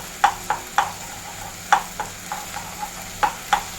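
A spatula taps and scrapes in quick, uneven strokes while eggs with onions are stirred in a pan. A faint sizzle sits underneath the light clicks.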